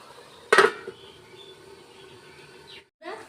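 A metal lid is set back down on a cooking pot of bottle-gourd curry with fish head on a lowered flame: one sharp clattering clank, then a faint low simmer, with a soft second knock near the end.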